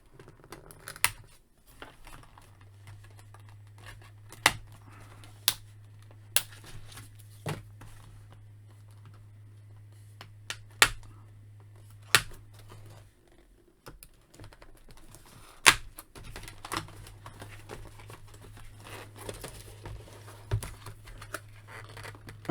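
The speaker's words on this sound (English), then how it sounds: "let me cut all these ties out, free the figure" Scissors snipping plastic ties to free a Black Panther Mech Strike toy figure from its packaging: sharp, isolated clicks spaced a few seconds apart over a quiet low hum, close and crisp.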